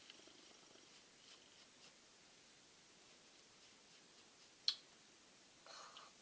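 House cat purring, a very faint soft rumble close by in a quiet room, with a few light clicks and one sharp tap.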